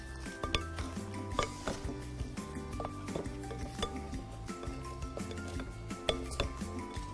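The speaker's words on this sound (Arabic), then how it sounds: "نخلط هذه المكونات مع بعض" Ingredients for a chicken and pasta dish are mixed together in a bowl, with a steady run of clinks, taps and scraping knocks of a utensil against the bowl in an irregular, close-up rhythm.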